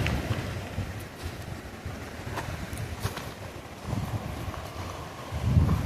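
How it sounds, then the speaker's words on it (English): Fast-flowing river swollen after rain rushes steadily outdoors, a broad continuous wash with some wind buffeting the microphone. "Wow, this river's moving."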